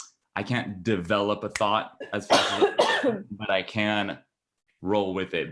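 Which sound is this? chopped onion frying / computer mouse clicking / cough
cough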